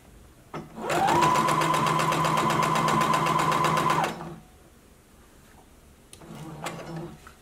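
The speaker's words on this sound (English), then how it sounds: "And just go ahead and begin sewing." A home sewing machine stitches a faux wrap skirt with back stitching, running in one steady rapid whirring burst for about three seconds, then pausing before a short second run.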